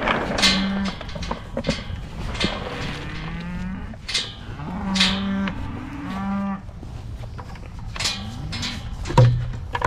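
A herd of cattle moos and bellows over and over in excitement at feeding time. Many loud overlapping calls come from close by and a little farther off, with no talking.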